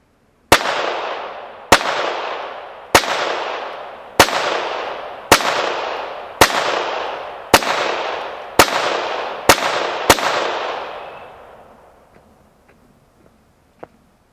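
Ten loud, sharp gunshots at home self-defense shooting practice ring out at a steady pace about a second apart, each with a short fading echo, followed by a few faint clicks as the firing stops.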